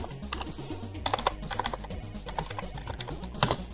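Rapid keystrokes on a computer keyboard enter a network configuration command, close and steady with a few heavier key presses, with no voices.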